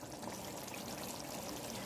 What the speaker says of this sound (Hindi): इसमें थोड़ा सा पानी डाल देती हूँ